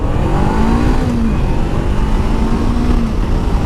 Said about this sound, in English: I just gave it some gas back there and it just shot off.